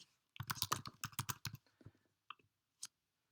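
A computer keyboard is typed on in a quick burst of close, crisp key clicks, then slowing to a few scattered taps and a final single keystroke, with no talk.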